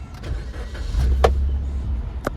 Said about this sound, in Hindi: बैठने के बाद गाड़ी को स्टार्ट करो, चाबी लगाओ, गाड़ी को स्टार्ट करो।